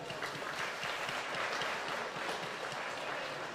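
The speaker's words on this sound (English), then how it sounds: "Please give them a big round of applause for their effort." Sustained applause from a crowd at a dairy cattle show for the young handlers, an even wash of clapping that holds steady throughout in a large indoor show hall.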